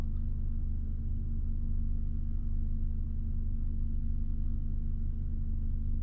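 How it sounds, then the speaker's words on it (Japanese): A 40-series Toyota Alphard gasoline engine idles with a low, steady rumble and hum, constant and unbroken, with no voices. "今この状態でアイドリングの音聞こえてますでしょうか。"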